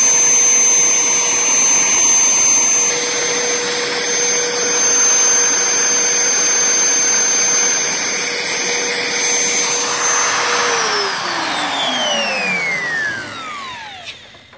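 A power drill spins steadily while shaping wooden railing spindles, a loud continuous whine held close, then winding down in pitch as it stops near the end.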